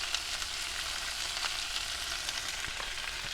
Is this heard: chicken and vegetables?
yes